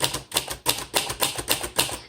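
A 1961 Royal Futura 800 manual typewriter clacks under brisk typing: about eight crisp, close keystrikes in a quick, fairly even rhythm, with nothing else heard.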